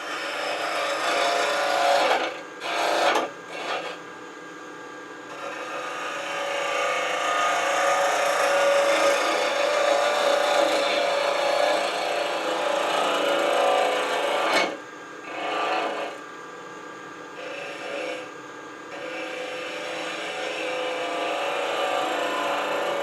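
A spindle gouge scrapes steadily against spinning wood on a lathe, producing a continuous raspy hiss with a few short breaks where the tool lifts off, close and alone.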